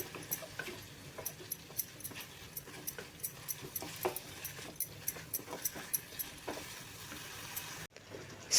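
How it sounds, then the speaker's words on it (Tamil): A pot of chickpea curry with tomato bubbling on the stove, with soft popping and ticking bubbles at an uneven rhythm, quiet and close, ending in a brief clunk. "சுண்டலில் இருக்கிற தண்ணியெல்லாம் பார்த்திங்கன்னா நல்லா வந்து கொதிக்குது"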